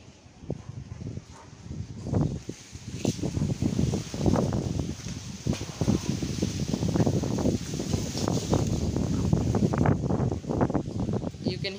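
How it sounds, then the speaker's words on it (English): Gusty wind blows outdoors beside a mango tree, a steady broadband rumble with rustling leaves and scattered pops of microphone buffeting throughout. "You can hear the wind."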